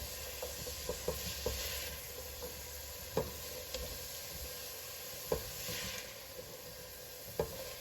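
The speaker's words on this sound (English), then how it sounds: "And once the onion hits the garlic, smells pretty good." Onion and garlic sizzle in a pan for soup, a steady close hiss broken by scattered clicks of stirring, no voices.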